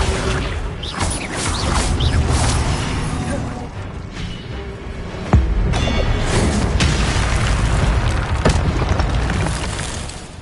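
Incendio fire spell cast in the Hogwarts Legacy video game, a loud continuous roaring blast of flame and rumbling booms over sharp impacts, sustained throughout with brief louder bursts.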